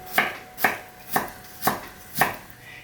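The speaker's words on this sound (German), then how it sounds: "schneidet den Ingwer sorgfältig ganz fein" A knife chops peeled ginger finely on a cutting board, five evenly spaced sharp taps in a slow steady rhythm, close and fairly quiet with nothing else audible.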